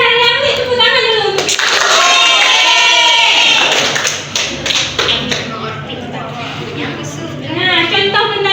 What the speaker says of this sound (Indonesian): Ambil tepuk tangan dulu